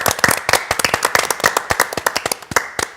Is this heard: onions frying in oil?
no